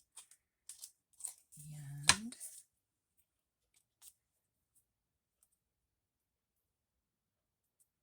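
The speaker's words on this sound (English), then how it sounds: "Let's cut this off down here." Scissors snip through paper in a few short, quiet cuts spread over several seconds, with a brief vocal sound in the middle and near silence afterward.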